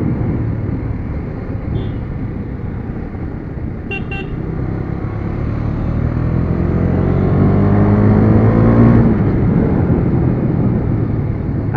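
A KTM Duke 250 motorcycle on a test ride, its engine droning steadily and rising in pitch as it accelerates, with continuous wind rush throughout.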